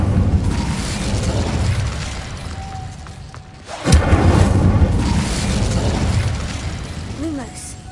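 The Incendio fire spell from Hogwarts Legacy bursts with a sharp whoosh and thump midway, rising over a busy backdrop of combat noise and rumble, with the spell's name shouted beforehand.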